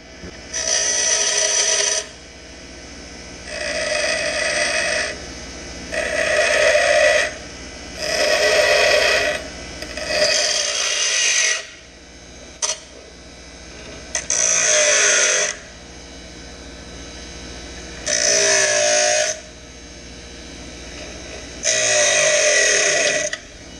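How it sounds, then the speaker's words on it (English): A bench grinder notches a plastic selfie stick monopod part in repeated loud bursts of a few seconds each, separated by short pauses, close up with no talking. "So we'll go ahead and do that now over on the grinder."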